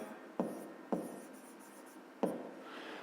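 Pen or pencil writing by hand on paper during a fifth-grade math lesson, with three sharp tapping strokes over a soft continuous scratching, close and fairly quiet.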